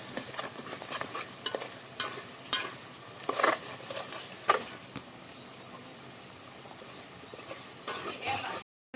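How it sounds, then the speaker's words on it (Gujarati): Eggplant bharta with chutney being stirred in a pan, giving soft irregular scraping and clinking strokes with a faint sizzle, moderately quiet throughout. "હવે ચટણી નાખી દીધી અને બા હલાવે છે."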